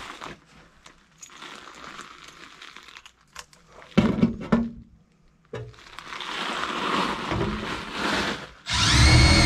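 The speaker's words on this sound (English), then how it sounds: "let me get a hole drilled" Power drill boring a hole for duct work on a Lennox Pulse furnace install, coming in several loud bursts with pauses and crinkling handling noise between them, ending on a sustained loud run.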